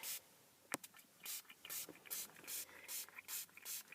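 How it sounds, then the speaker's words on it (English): A series of short hissing bursts from a spray bottle of Thieves household cleaner diluted with water, about a dozen quick pumps in a loose rhythm, close up and fairly quiet. "what I'm going to do is just spray it"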